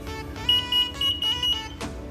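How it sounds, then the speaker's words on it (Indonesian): Buzzer on an ultrasonic-sensor walking cane for the blind, an electronics innovation project, sounds as a steady high tone in about five short repeated bursts of even rhythm, close and fairly clear over a faint hum. "apakah sensor tersebut apabila membaca jarak, buzzer akan berbunyi"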